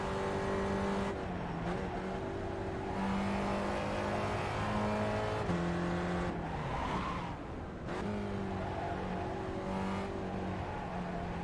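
Spec Racer Ford Gen3 race car engine in the iRacing sim, droning loud and steady with harmonic pitch rising through gears and dropping at shifts, brief lifts around braking zones, no talking.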